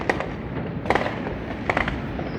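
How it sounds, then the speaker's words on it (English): New Year's fireworks over New Orleans, Louisiana, heard from a porch: three sharp crackling bursts spaced under a second apart, each with fizzing tails, over a low continuous rumble, with no voices. "Fireworks from the porch."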